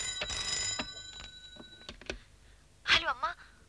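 A telephone rings with bright, repeated trilling bursts, then a pause and a short final ring, fairly close and clear.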